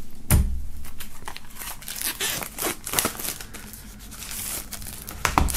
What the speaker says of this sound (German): nachdem das Album auch noch eingeschweißt ist, werden wir auch dieses Mal aus der Folie befreien